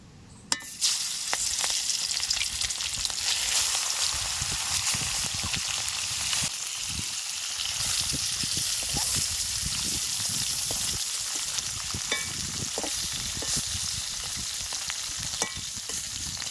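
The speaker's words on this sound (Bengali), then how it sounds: "এই মাছটা একটু হালকা করে ভেজে নেব।" Fish coated in turmeric and salt fries in hot oil with a steady, dense sizzle and crackle that carries on throughout, with occasional brief dips and small pops; no one speaks.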